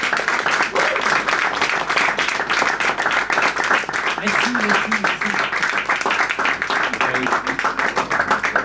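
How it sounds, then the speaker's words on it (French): Sustained audience applause, dense steady clapping from a large crowd lasting the whole stretch without pause. "Un tonnerre d'applaudissements pour notre Jean-Marie Riche."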